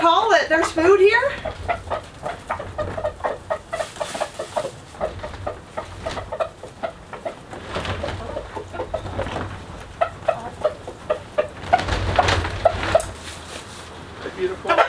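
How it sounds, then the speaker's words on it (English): Chickens cluck and roosters call repeatedly around a farmyard, with a person talking over the birds at times. "Do you hear the roosters?"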